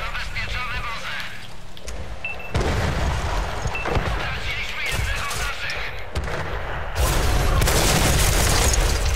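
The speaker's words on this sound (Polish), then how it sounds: "Jeden strzał oddany, bardzo precyzyjny przez naszego przeciwnika." Tank cannon fire in World of Tanks, with several heavy booming shots and sharp bursts over a continuous rumbling battle bed that grows louder toward the end, with a voice speaking underneath.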